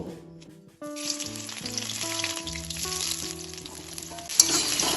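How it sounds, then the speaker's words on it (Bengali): Boiled cauliflower and potatoes dropped into hot mustard oil, a sudden loud sizzle that bursts in after a quiet start and keeps crackling steadily under soft background music, no talking. "এখন আমি এর মধ্যে সিদ্ধ করে রাখা ফুলকপি এবং আলুটা দিয়ে দেব"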